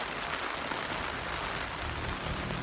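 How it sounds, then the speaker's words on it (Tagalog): Steady rain falls in Baguio City, a dense, even hiss of drops on surfaces that stays constant throughout, with no talk over it. "Umuulan dito sa Baguio City."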